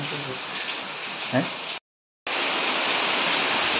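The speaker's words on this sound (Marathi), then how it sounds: "मित्रांनो पाऊस काय जायचं नावच नाही घेत आहे" Heavy village monsoon rain pours steadily as a dense, loud hiss with a brief cut partway through, and a faint voice can be heard under it.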